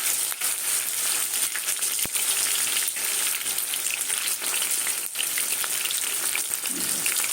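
Prawns fry in hot oil, giving a continuous dense crackling sizzle up close with scattered sharp pops and small clicks of utensils, no voices.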